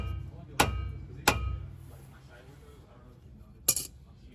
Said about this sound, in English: now just put in the crown bolt